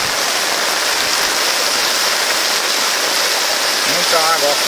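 Floodwater flows through a street with a loud, constant rushing hiss, and a voice speaks briefly near the end over the torrent.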